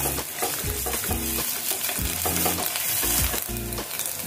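Ginger, garlic, cumin and coriander paste frying with onions in a pan, cooking for a pabda fish with pineapple dish: a steady close sizzle broken by rhythmic stirring scrapes.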